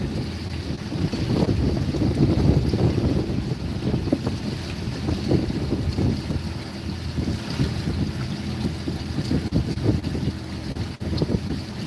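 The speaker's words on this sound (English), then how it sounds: "this wind is just ripping today" Strong wind buffets the microphone continuously outdoors near water, a loud broadband roar with gusts rising and falling throughout, no talking.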